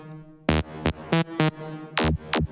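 Raspy bass tone shaped by Pro-Q all-pass filters, a low drone punctuated by six short bright, buzzing stabs in an irregular rhythm.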